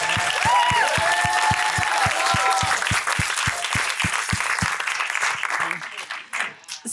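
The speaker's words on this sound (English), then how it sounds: "So she needs an applause." Applause from an interview audience at a Prince symposium: dense, sustained clapping that fills the room, then thins out and trails off toward the end, with a few voices mixed in early on.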